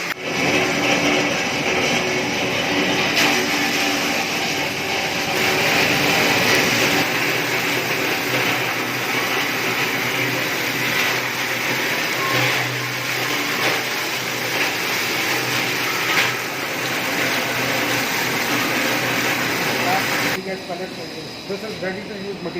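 Recycling machine grinding scrap PVC pieces for pipe making, a loud continuous mechanical roar and whir running steadily for about twenty seconds before easing off near the end.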